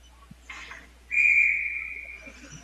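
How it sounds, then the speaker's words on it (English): A referee's whistle at an ice hockey game blows one sustained, fairly loud shrill blast for offside, tapering off, after a brief softer noise over quiet arena ambience. "Offsides there, so 2 quick whistles."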